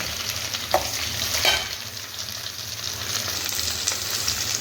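Curry leaves and onion fry in hot oil for rava upma with a dense, continuous close sizzle. A couple of soft stirring scrapes come through the crackle, and nobody talks.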